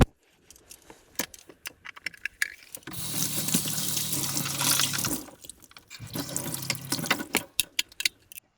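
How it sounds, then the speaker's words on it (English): Camera gear rinsed under a running tap after saltwater use: a steady gush of water for a couple of seconds, a pause with clicks and small handling knocks, then another shorter rinse. "I like to clean that gear up every time, especially after salt water use."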